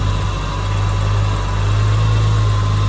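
A Nissan Skyline engine idles just after starting, producing a loud, steady, low droning hum with a slight, even vibration and no revving.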